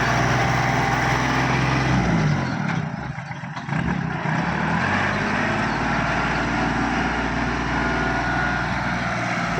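A Kubota 36 horsepower farm tractor engine runs steadily at close range, a loud continuous drone with low harmonics that dips briefly partway through before resuming.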